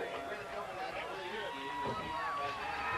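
Crowd at a 3-hour figure-eight endurance race cheering from a distance as the winner climbs from his car, a steady roar of voices with an announcer talking over it.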